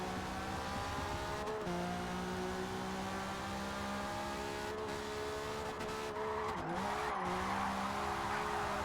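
A drift car in a racing video game holds a long slide. A steady engine drone runs under continuous tire squeal, with the pitch wavering and dipping as the slide shifts.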